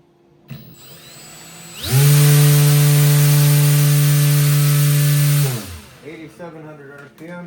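An RC brushless motor spins a three-bladed 8.5 inch propeller on a thrust test stand, spooling up to a loud, steady high-pitched whine with strong harmonics for about three and a half seconds before winding down.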